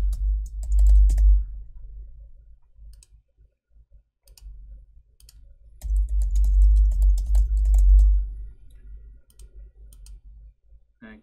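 Bursts of rapid typing on a computer keyboard while filling out a web form, two clear clusters of close, crisp key clicks separated by a quiet pause.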